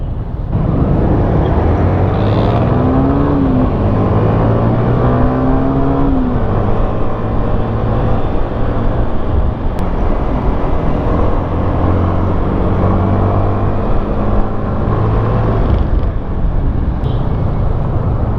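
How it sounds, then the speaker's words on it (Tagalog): A Yamaha Sniper 155cc motorcycle engine accelerates while riding, a loud steady drone whose whine climbs in pitch through several gear changes under constant wind rush, with no voices. "ibang klase rin talaga yung hatak ng sniper no malakas din para sa 155cc"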